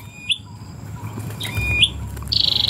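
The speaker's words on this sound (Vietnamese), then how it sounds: "Kè tiếng chim sâu vô là bảo đảm lụm liền." A flowerpecker call played at a bird trap gives short high chirps and tweets, ending in a rapid trilling burst, with a low rumbling background beneath.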